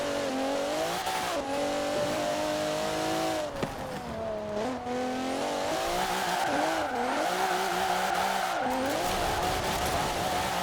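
Alfa Romeo 155 with a 1000HP build on race tires in Forza Horizon 4, its engine revving loudly and continuously, the pitch climbing and dipping through gear changes and drifting, with tire squeal mixed in and no talking.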